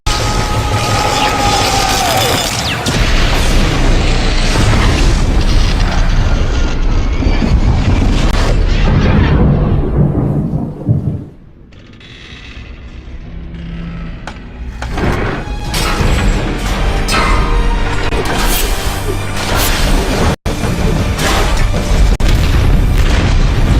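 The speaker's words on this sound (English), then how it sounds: "When it's fired, Obadiah is fried, destroying the large arc reactor and the Ironmonger suit with him" A massive explosion as the large arc reactor is destroyed along with the Ironmonger suit in the Iron Man film: a sustained loud roaring boom with heavy rumble, a brief dip, then renewed crashing and crackling debris throughout.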